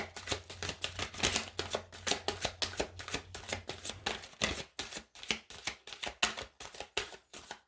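Tarot cards being shuffled by hand, a rapid run of crisp riffling flicks and soft slaps close to the mic, steady rhythmic bursts with no talking.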